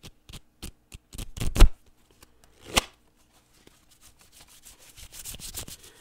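Tarot cards being shuffled by hand, a run of crisp riffling flicks and soft rubbing taps building to a louder burst, then quieter shuffling rustles near the end.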